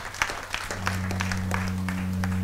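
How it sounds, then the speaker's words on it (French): Church congregation applauding, short uneven claps scattered through the moment while a steady low organ or keyboard tone sustains underneath. "Applaudissons pour Jésus"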